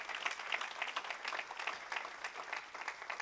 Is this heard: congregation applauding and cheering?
yes